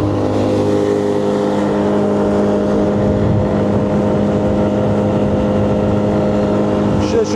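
Yamaha 25 GETL outboard motor running on a Brema 435 V fishing console boat, a loud steady engine drone close by with a stable pitch and water rush, continuous throughout.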